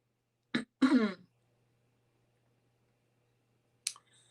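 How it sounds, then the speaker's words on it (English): A short, close throat clearing in two rough bursts, then quiet, with a brief click-like sound near the end. "Sorry about clearing my throat."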